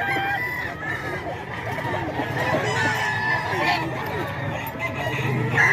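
Chickens cluck and roosters crow loudly at a busy poultry sale, several birds calling over and across one another amid steady crowd babble and talking.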